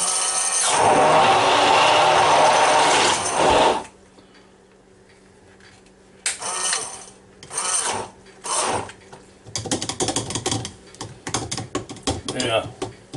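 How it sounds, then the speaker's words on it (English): A Cuisinart Smart Stick immersion blender chops an egg mixture for egg bites: a loud steady whir for about three seconds, then several shorter bursts and pulses after a pause. "Now I'm going to take this Cuisinart Smart Stick here and mix it up."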